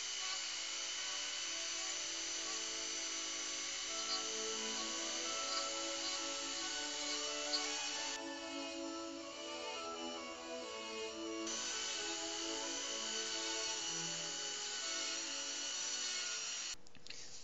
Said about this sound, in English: Now I've switched to a smaller sanding disc so I can pay attention to finer details.